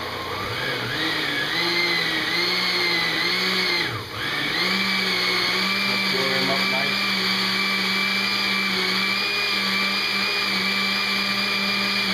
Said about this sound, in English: You got your blender going.